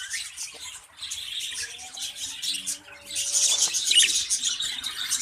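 Caged budgerigars, including a green female, chirp and squawk in a steady busy chatter, building to denser, louder calls toward the end.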